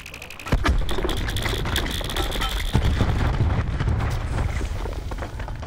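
A grenade goes off in a multiplayer video game, a loud sudden blast with a sustained low rumble and scattered crackling debris that lingers afterward.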